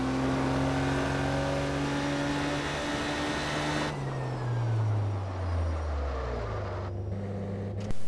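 A car engine hums and revs steadily, then its pitch drops and shifts as the vehicle changes speed, with electronic game-like engine tones from Test Drive Unlimited 2.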